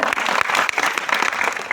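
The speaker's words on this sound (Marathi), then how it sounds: "जोरदार टाळ्या" Loud, dense applause from an audience at a devotional kirtan gathering, a continuous close roar of clapping hands lasting a couple of seconds.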